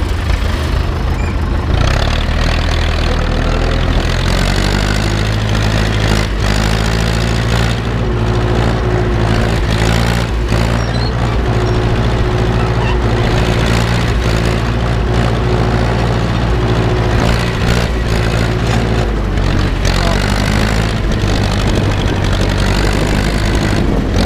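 Ursus C-360 tractor engine running steadily during ploughing, a loud, continuous low diesel chug that stays close and constant throughout with no talk.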